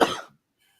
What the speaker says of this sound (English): His cough.